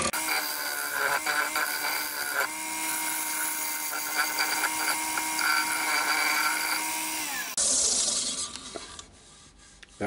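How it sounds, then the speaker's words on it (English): A small round carbide cutter gently scraping a maple bowl on a wood lathe, a steady close whirring scrape with a hum running continuously, then shifting to a brighter hiss near the end. "Just using the small carbide, round carbide cutter for this. Just very gently scraping along."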